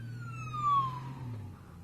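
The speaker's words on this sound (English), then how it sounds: "Looks like we got the fire truck going out." A fire truck siren wails as the emergency vehicle passes on the road, its falling tone sweeping down as it goes by, with steady road and engine rumble underneath from a Honda Gold Wing motorcycle on a cold day.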